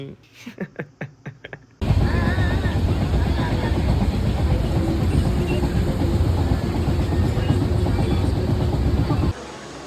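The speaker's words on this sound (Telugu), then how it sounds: "and here are the glimpse of unforgettable train journey" A train rumbles loudly along the rails with a steady roar and rhythmic clatter, after a few seconds of brief voices at the start, on a train journey through Kerala between Varkala and Alappuzha.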